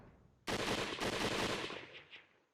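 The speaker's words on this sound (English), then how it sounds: "A gunshot sounded from the entrance." Gunfire in the video game Hakuoki: Kyoto Winds, a sudden loud burst of rapid shots starting abruptly, rolling on for about a second and then decaying with a couple of fainter trailing reports, no voices.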